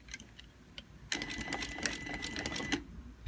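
A sewing machine backstitches at the start of an invisible zipper seam, with a few soft isolated clicks and then about two seconds of quick, rattling machine stitching, quiet and close.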